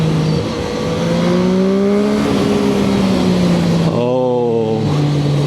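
A Zontes 703RR motorcycle engine accelerates loudly through the gears, its rising pitch climbing steadily, then dropping sharply with a quick-shifter change before climbing again, up close and continuous with no pauses.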